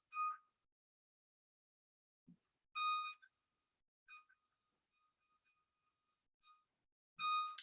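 Kitchen timer being set while buñuelo dough rests: clear short electronic beep bursts, some longer tones and some brief blips, spaced irregularly over a quiet background.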